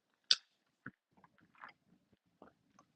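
Dry-roasted cashew nuts are bitten and chewed up close, one sharp crunch followed by a few softer crunches spaced out over quiet, with no talk.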